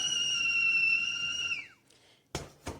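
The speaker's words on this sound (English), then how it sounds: "The whistle's very quiet." A 3-liter whistling tea kettle sounds a steady, fairly quiet whistle as the water boils, fading out after about a second and a half, followed by two short clunks, likely from the lid or the handle.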